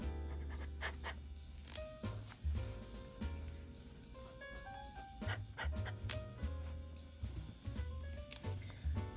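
Extra fine nib dip pen scratching across paper with wet ink, soft rhythmic scratches on the upstrokes, close up over a steady low background hum.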